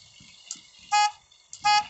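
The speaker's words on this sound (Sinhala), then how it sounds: "වාහනය යද්දි හෝන් ගහන්න ඕනේ" A vehicle horn in a racing video game honks twice in short, loud toots, with quiet game sounds between the blasts.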